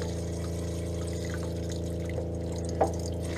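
Water running from the hot and cold tap of a Class B RV after a fresh tank flushed with vinegar, a steady hum of a water pump under a soft liquid flow with a small knock near the end.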